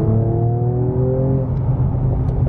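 A Mercedes CLS 53 AMG's exhaust note close by, a deep throaty drone easing down from a rev, loud and steady.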